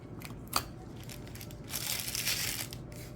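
Scissors cut through material while making resin blooms with dried florals: a short crisp snip, then a longer rough crunching, crinkling cut, close and alone with no talking.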